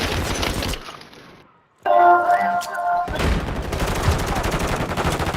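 Shotgun fire in Call of Duty: Modern Warfare 3 comes as loud, punchy blasts and rapid bursts. A short quiet gap and a game tone interrupt the firing before dense gunfire resumes.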